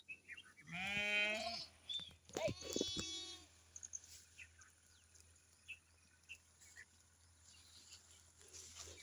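Sheep in a grazing flock bleat loudly twice up close, then quieter scattered sounds follow over a faint steady background hum.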